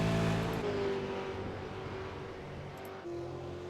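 Supercar racing at the Phillip Island circuit, a continuous loud engine drone with steady tonal whine and slight pitch shifts as the car runs along, no voices.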